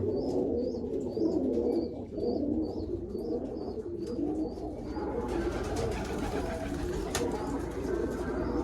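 Crested pigeons coo in a loft among other pigeons, low throaty coos running steadily under a few high chirps that repeat early on.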